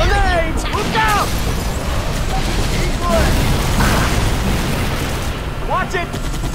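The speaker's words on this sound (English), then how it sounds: "Get down! Grenades! Look out!" Grenade blasts in the Halo 3: ODST video game, several bursts going off amid constant battle noise, with shouted voices and gunfire layered throughout.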